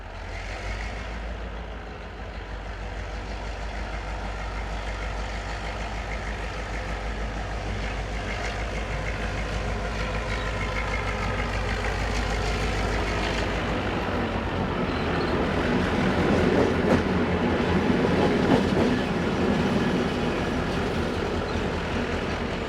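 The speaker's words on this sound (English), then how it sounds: "664118 running through light engine after being released from the iron ore train it had arrived with" British Rail Class 66 diesel locomotive 664118 running light engine after leaving an iron ore train, a steady low engine drone and rumble passing nearby, swelling slightly louder toward the end with no voices.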